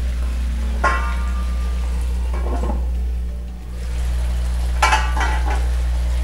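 Kangkong and sardines cook in a pan, giving a steady loud sizzle and hiss with a few brief clinks of utensils against the pan, no talking.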